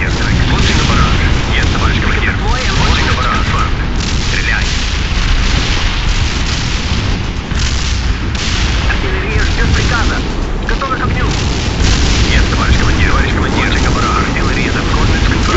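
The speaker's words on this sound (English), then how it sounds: "Artillery strike successful." Artillery strike explosions in the World in Conflict video game, a continuous loud wall of booming blasts and rumbling impacts that fills the whole stretch without let-up.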